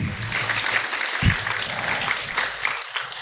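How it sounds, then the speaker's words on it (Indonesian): An audience at an iftar event fills the room with dense, steady applause, sustained clapping from a crowd with a few voices underneath, loud and continuous. "Baik, tepuk tangan untuk Habib Jafar Hussein."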